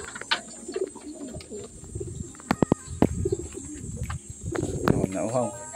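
Racing pigeons coo softly amid outdoor ambience as birds return from a derby training race, with sharp clicks and bumps and people talking nearby throughout.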